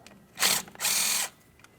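A ratchet loosens the 11mm banjo bolt holding the brake flex hose on a rear brake caliper of a 2007-2014 GMC Sierra 2500 HD, giving two close, loud bursts of rapid clicking with a brief pause between them.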